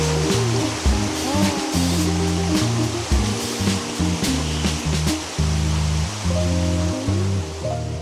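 Erawan waterfall in Kanchanaburi, Thailand, roars in a steady, loud rush of water, with background music playing over it.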